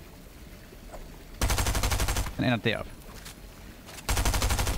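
Gunfire from an SMG and a shotgun in Fortnite, two bursts of rapid shots separated by a short pause, loud and close, with someone speaking Danish between them.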